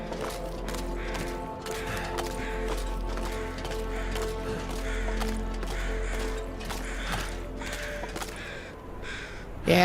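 Crows cawing overhead in a video game, repeated harsh calls at a regular rhythm that seem to move about, over a constant low game ambience and some rustling footsteps.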